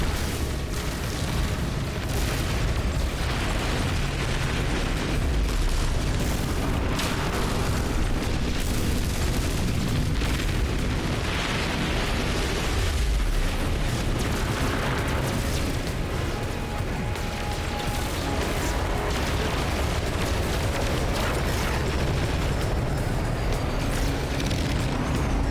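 Missile blasts and space combat in the game No Man's Sky, around a corvette-class starship, form a dense, continuous roar of booms and rumbling explosions, loud throughout with no pauses.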